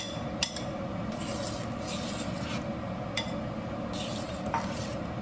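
Spoon stirring chicken paprikas sauce in a pot, soft scraping and rubbing with faint sizzle and a couple of light clinks against the pan, quiet and close without talking.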